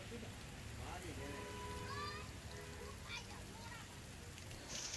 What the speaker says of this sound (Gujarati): ધીમી ધારે વરસાદ શરૂ થઈ ગયો છે